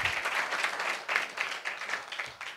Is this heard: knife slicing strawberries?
no